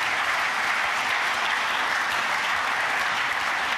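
Dense, even audience applause at a formal anniversary ceremony, a continuous wash of many hands clapping without pause or voices.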